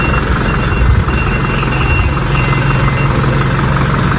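The engine of an Isuzu Elf NKR mini dump truck idles close by, a loud, steady low rumble with a constant vibrating drone.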